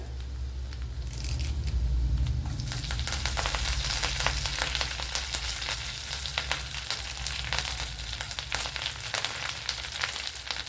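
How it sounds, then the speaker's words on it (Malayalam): Fresh curry leaves dropped into hot oil with dried red chillies burst into a loud crackling sizzle after a brief low rumble, with sharp spitting pops continuing close up. "ഇനി ഇതിലേക്ക് കറി ലീവ്സ് ചേർത്ത് കൊടുക്കുക"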